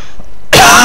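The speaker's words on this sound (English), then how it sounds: "Terrible cough." A single loud, harsh cough bursts out abruptly after a moment of near silence, very close.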